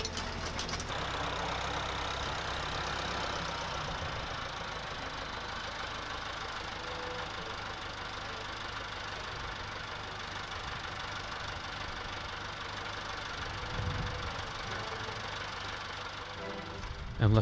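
A garden tiller engine runs steadily while digging up an old lawn, a continuous mid-range rumble with knocking undertones, moderately near, shifting slightly in load near the end.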